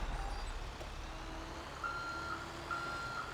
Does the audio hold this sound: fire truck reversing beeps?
yes